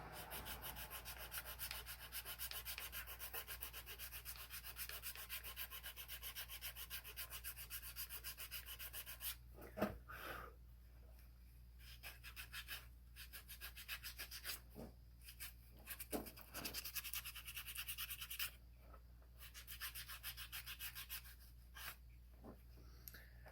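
Hand sanding of knife scales with sandpaper, continuous close scratchy rubbing strokes that pause briefly now and then before resuming, quiet and steady throughout.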